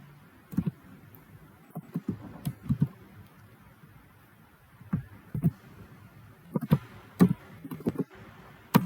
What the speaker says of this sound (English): We can type here cout